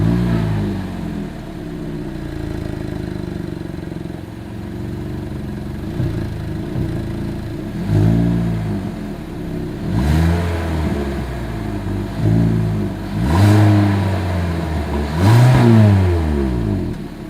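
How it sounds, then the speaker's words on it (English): The exhaust of a 2023 Hyundai Elantra idles, then rises in a series of short revs that grow louder toward the end, each climbing and falling back to a steady idle, heard up close. "Here is that exhaust clip."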